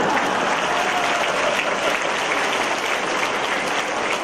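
Steady applause from an audience at a Buddhist Dharma assembly in Batam, Indonesia, a continuous wash of clapping that holds at an even level from start to finish.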